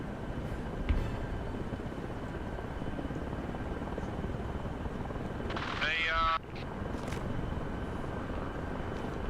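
A video game helicopter drones steadily with a broad, low rotor rumble that runs the whole time, with a short higher whine partway through and a brief click near the start.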